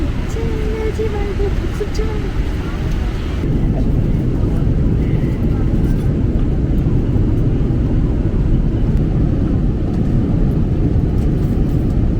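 Airplane cabin noise on a long flight: a loud, steady low roar that holds throughout, with a slight shift in tone a few seconds in.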